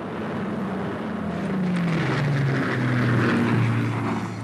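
Piston engines of a de Havilland DH-98 Mosquito aircraft drone steadily and loudly, a sustained low roar whose pitch slides and wavers as the plane passes.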